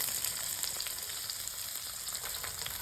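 Chopped yellow onion fries in a skillet with a continuous, fairly quiet sizzle and fine crackle, steady and unbroken with no voices.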